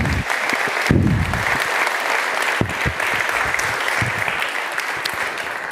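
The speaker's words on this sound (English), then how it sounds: "please give them a massive, massive, massive round of applause" An audience at a freelancing talk gives a round of applause, a steady roar of clapping at moderate volume with a few sharper individual claps and a brief low thump standing out near the start.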